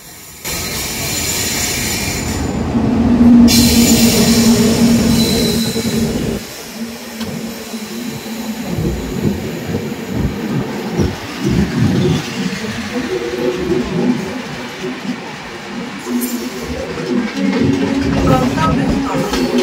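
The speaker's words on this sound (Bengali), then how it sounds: "এবার আমরা জিং দেখবো 12703 ফলকনামা এক্সপ্রেস" The 12703 Falaknuma Express, Secunderabad to Howrah, rushes past close by with a loud, sustained roar of wheels and rails, its heavy rumble and clatter persisting throughout.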